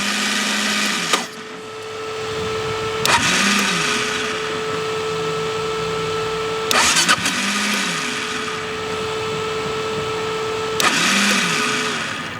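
A Gas Gas Wild HP sport quad engine running, its steady drone broken by several sharp surges and dips as if restarted or blipped, loud and close for the whole stretch.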